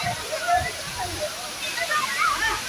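Tipi waterfall heard as a continuous rushing wash of falling water, steady and fairly distant, with faint background voices.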